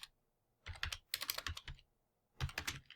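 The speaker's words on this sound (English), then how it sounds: "So we're gonna type in uno" Quick bursts of typing on a computer keyboard, close and clear, with three short runs of key clicks separated by brief quiet pauses.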